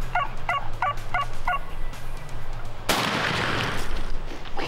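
Five quick gobbles from an Osceola wild turkey ring out in a steady rhythm at moderate distance over outdoor ambience, followed by a single sharp gunshot blast near the end.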